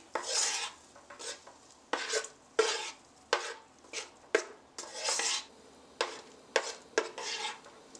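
Shrimp being tossed and stirred with Cajun seasoning and a pinch of salt in a bowl, giving repeated scraping, rubbing bursts of utensil against dish in an irregular rhythm, close and fairly quiet with no talking.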